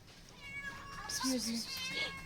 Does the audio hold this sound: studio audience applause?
no